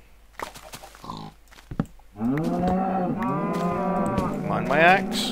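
Cows moo in a Minecraft pen, several long, drawn-out lowing calls that overlap and continue steadily after a few brief clicks and knocks at the start.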